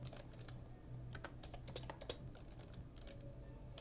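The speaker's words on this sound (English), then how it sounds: "let me type it out" Typing on a computer keyboard during a trading backtesting session, a steady run of quick, close key clicks with a low background hum and no talking.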